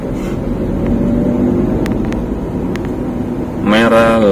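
A Wuling Confero car idles and drives in slow, congested city traffic, its steady engine hum running throughout with a few brief clicks, and the engine note rises near the end as it pulls away after a gear change.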